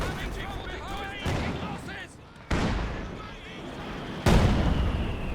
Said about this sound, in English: The mortar, got the Zis barrage coming in